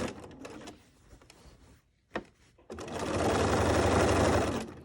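A sewing machine stitches contrasting thread across the rows of a fabric Christmas countdown calendar, starting with a few short bursts and pauses, then settling into one loud, steady, continuous run of rapid stitching close by.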